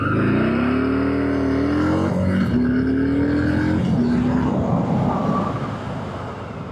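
A Harley-Davidson Fat Boy 117 engine revs hard and climbs through several gears as it pulls away from traffic lights, loud and close, fading slightly at the end.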